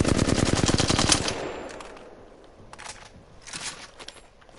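In a PS4 shooter, a gun fires a rapid burst of automatic rounds close and loud for about a second, followed by scattered softer shots and echoing reports as the firing tapers off.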